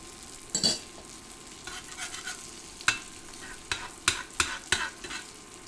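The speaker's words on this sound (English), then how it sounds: "I'm hearing the sizzling is not making the sizzling sound that I want to hear" Fish pan-fries in an iron skillet on an induction burner, giving a faint, low sizzle broken by a series of sharp scraping and stirring clicks from a utensil against the pan.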